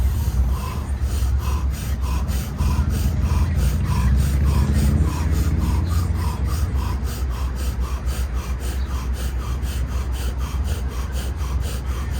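Deep breathing exercise in a group, with a long steady rush of air under a regular rhythmic pulsing, loud and continuous throughout with no talking.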